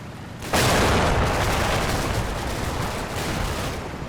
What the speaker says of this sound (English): sprayed machine gun fire from over here